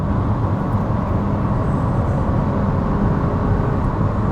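A 2021 Chevrolet Trailblazer RS with a 1.3-litre turbo engine accelerates at full throttle from 100 km/h, producing a loud, continuous broadband roar of engine and road noise that holds steady throughout.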